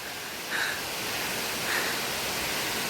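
Water from a low-flowing waterfall splashes down in a constant hiss-like roar, moderately loud and unbroken, with slight swells in level and no speech over it.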